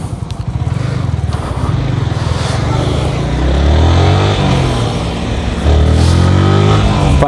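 A Yamaha R15 V3 motorcycle under way, engine note rising and falling through revs and gear changes, loud and continuous with heavy wind rumble.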